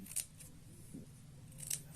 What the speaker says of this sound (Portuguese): para fazer essas franjinhas, ó, você utiliza uma tesoura